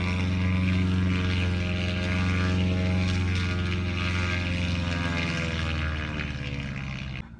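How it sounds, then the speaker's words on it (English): Steady, loud propeller aircraft engine droning close by during an engine run-up, holding a constant throbbing roar with no talk, then easing off slightly at the end. "that's the airplanes that you can probably hear"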